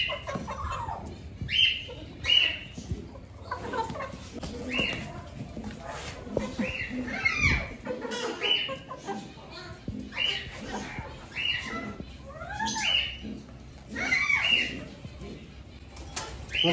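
Caged chickens and chicks cluck and chirp again and again around a person speaking, with bright peeping calls scattered across the whole stretch.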